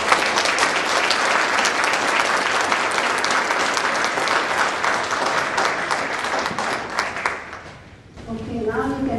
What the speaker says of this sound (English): Let's give a big round of applause for our new members